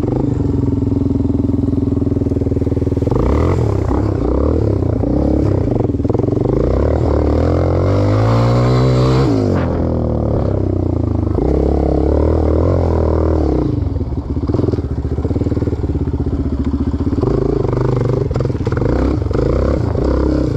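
A Yamaha Raptor 250 quad bike ridden off-road on test, its engine loud and close throughout, rising and falling in revs with a clear accelerating sweep partway through, along with some clatter.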